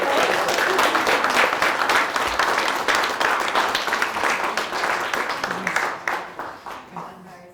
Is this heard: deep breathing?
no